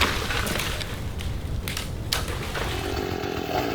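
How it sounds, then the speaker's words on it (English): A chainsaw cuts through bamboo building material outdoors in a jungle clearing, a steady loud rasping drone with short surges as the chain bites, continuous for the few seconds with no talk. "Things sped up considerably when neighbor Wilson offered us to use his chainsaw"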